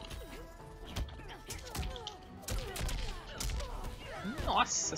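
Quick bursts of gunfire and hard impact thwacks from a Mortal Kombat 11 fight played on PC, repeated sharp shots and hits at moderate-to-low loudness mixed with other game effects.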